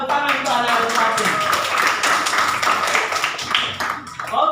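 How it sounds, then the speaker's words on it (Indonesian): Schoolchildren in a classroom clapping together for a classmate, brisk loud claps in an uneven rhythm with excited voices mixed in, tapering off near the end. "tepuk tangan untuk anak Al-Fatin"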